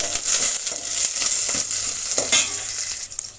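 Mustard seeds and one chopped onion frying in hot oil make a loud close sizzle, with stirring scrapes and a few sharp crackles and pops across a few seconds.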